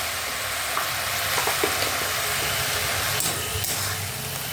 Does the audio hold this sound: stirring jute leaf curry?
yes